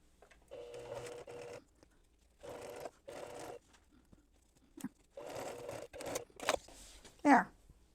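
An embroidery sewing machine stitches an in-the-hoop reverse applique bib in several short bursts of rapid mechanical whirring, close by, with someone speaking softly between them.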